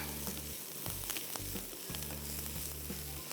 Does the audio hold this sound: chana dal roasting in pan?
yes